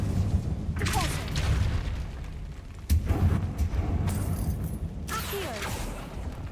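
Spell effects in Hogwarts Legacy, a Repulsor cast among others, come as three sharp whooshing bursts with swirling shimmer, each landing with a low boom over a steady rumbling game background.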